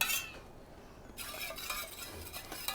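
Soft, brief swirling and light clinking as a dissolved medicine tablet is mixed into water in a small container, fairly quiet and close, with no voices.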